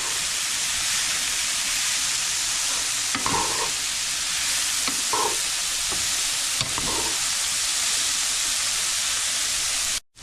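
Lobster mushrooms and pepper being stirred in a frying pan give a steady, close sizzle with occasional scraping strokes of the utensil; no one speaks.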